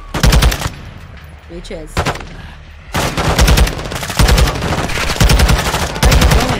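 Rapid automatic gunfire from Call of Duty Modern Warfare 2 during a prison-break mission, loud bursts that stop and restart with short pauses, with a brief shouted word from a player between them.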